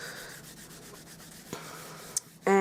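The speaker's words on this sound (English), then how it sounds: "I'll just apply the embossing buddy over the top" An embossing buddy is rubbed over paper before foil stamping, producing a soft, faint scuffing swish followed by a few sharp taps and a brief louder clatter at the end.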